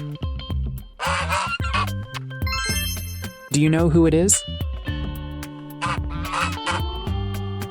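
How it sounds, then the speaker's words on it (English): A goose's honk sounds once in the middle of a children's animal-names lesson, loud and harsh against cheerful background music, with a narrator speaking before and after it. "Congratulations, it's the goose."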